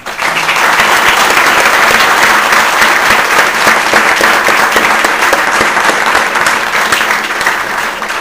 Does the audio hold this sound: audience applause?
yes